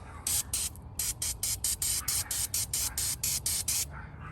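Repeated short hissing bursts of B12 aerosol throttle body cleaner sprayed on a 2010-2015 Camaro SS, about a dozen quick pumps in an even rhythm, close and fairly loud.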